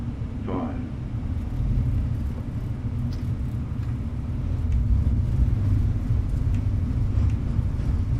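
JetBlue airliner engines roar in reverse thrust during the landing rollout at St. Thomas, a steady, heavy low rumble that holds for several seconds and swells slightly toward the end.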